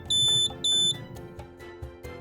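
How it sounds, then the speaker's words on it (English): A buddy lite portable blood and fluid warmer sounds its no-heat alarm: two loud, sustained high electronic beeps, each about a third of a second long, over a busy low background. "If the system detects no heat to the heater plates, blue and red LEDs will flash and an audible alarm will trigger."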